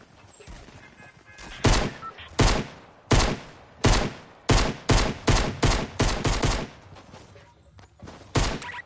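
Gunfire in a battle royale video game: a rapid series of about a dozen sharp, loud shots in uneven bursts, close and punchy, with quiet gaps between and no talking.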